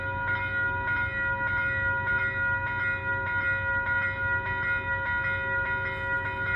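An Amtrak train passes close by, a loud continuous rumble with sustained tonal horn notes and rhythmic clicks of wheels over rail joints.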